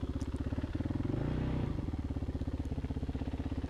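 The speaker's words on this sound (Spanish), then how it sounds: "Era gran la cantidad de motos Himalaya," Several Royal Enfield Himalayan motorcycles idle and run close by in a group ride around Santa Cruz, a steady thumping engine pulse with a brief swell of revving near the middle, no talk.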